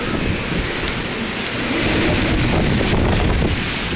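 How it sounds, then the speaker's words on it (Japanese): Heavy typhoon rain pours steadily at night, a dense, loud, unbroken roar mixed with gusting wind noise across the whole stretch, with no voices. "雨もこの通りって見えるかな、結構降ってます。"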